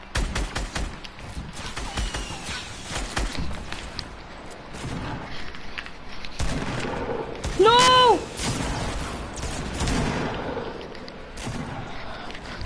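Video game gunfire crackles in rapid bursts and scattered shots under lively voice chat, with players talking excitedly over the steady firing and a brief tonal effect near the middle.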